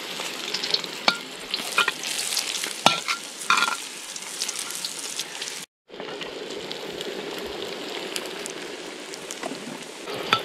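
Steady sizzling and frying with scraping, clinking stirs in a pot, close by, with a brief drop to silence midway.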